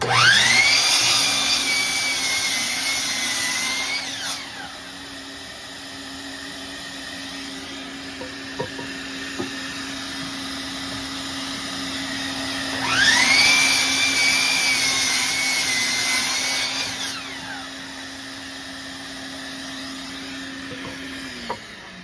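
Power saw cutting rough lumber boards to length against a stop block, two separate cuts, each a loud whining spin-up with a rising pitch as the blade bites, steady motor hum between cuts.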